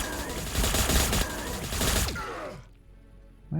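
An Astra Militarum Cadian squad lets loose in Warhammer Battlesector, a loud, rapid volley of rifle fire rattling for about two seconds before cutting off into quiet.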